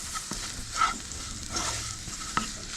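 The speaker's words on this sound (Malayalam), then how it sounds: "ഇനി ഈ പൊടികളുടെ പച്ചമണം മാറുന്നവരെ നമുക്കൊന്ന് വഴറ്റി കൊടുക്കാം" Coriander and chili powder sauté with shallots in a pan for a raw banana curry, a soft, continuous sizzle with repeated spatula scrapes and clinks against the pan, fairly quiet and with no talking.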